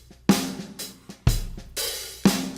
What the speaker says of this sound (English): Here's how it sounds, just the drums.